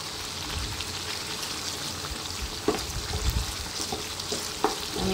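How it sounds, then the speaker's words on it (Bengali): Soaked spice paste being stirred and fried in hot oil, a steady close sizzle with occasional scraping stirs and soft knocks of the spoon against the pan. "আমি তেলের উপর ভালো করে মশলাটাকে 2 মিনিট মতো নাড়িয়ে নিই"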